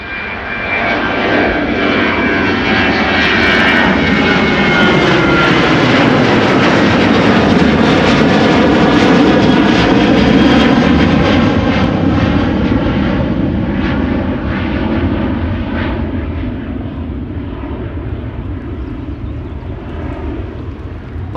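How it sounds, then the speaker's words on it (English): A KLM Boeing 737 jet at Amsterdam Schiphol Airport roars past on a late rotation, a loud, sustained broadband engine rush with a sweeping whine that swells and slowly fades as it climbs away, no voices. "737 KLM."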